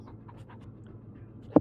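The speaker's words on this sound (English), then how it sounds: "I can hear the dog" A dog panting quietly in soft, quick rhythmic breaths, faint and close, ending with a brief louder bump.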